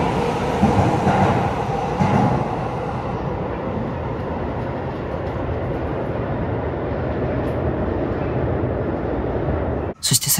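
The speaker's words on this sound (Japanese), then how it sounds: "お客さんを乗せてない回送列車にも抜かれるってね" A Keio Line out-of-service train passing by, a loud steady rumble and rush of rolling wheels that holds for about ten seconds, with a sharp break near the end.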